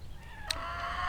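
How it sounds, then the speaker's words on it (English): Chickens cluck out in a backyard, a couple of faint hen calls at a distance over a steady background hum. "Probably hear the chickens out there."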